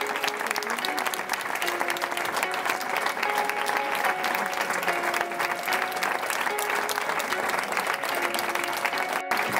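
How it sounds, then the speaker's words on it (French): Sustained audience applause at a talk on depression: dense, steady clapping from a large crowd, continuous and even throughout, with faint voices mixed in. "Cela m'encourage beaucoup, vos applaudissements"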